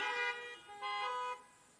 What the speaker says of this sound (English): I actually want you to honk your horn, just one brief honk for a minute.